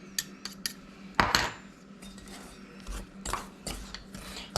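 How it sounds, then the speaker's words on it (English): A pastry blender cuts butter into a flour mixture for sweet potato biscuits in a bowl, giving repeated scraping, rasping strokes with clinks of metal against the bowl, close and steady. "blend the butter into the flour mixture with a pastry blender until it's the consistency of peas or coarse sand"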